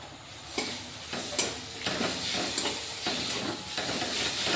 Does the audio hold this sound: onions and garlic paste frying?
yes